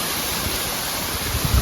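A waterfall in Rubi Valley at night gives a steady, close rushing roar of falling water, with a few low thumps near the end.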